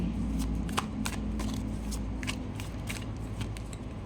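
Tarot cards shuffle close by in quick repeated riffles, crisp papery bursts about every half second over a steady low hum, with no talking.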